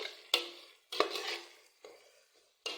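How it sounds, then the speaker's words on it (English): Spoon stirring onions and spring onion in a cooking pot, four distinct scraping strokes with brief pauses between, close and alone. "Now stirring it up."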